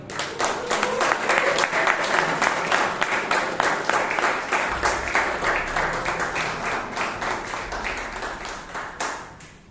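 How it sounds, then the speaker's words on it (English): Vigorous audience clapping welcoming Toastmaster Abhay Kothari at a Bangalore Toastmasters meeting, sharp distinct hand claps in a dense rhythmic stream that stays loud before tapering near the end. "With a thunderous round of applause, please help me in welcoming Toastmaster Abhay Kothari"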